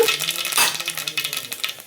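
Crackling sizzle of mustard and cumin seeds hitting hot oil, with quick popping bursts and faint stirring, steady and close throughout.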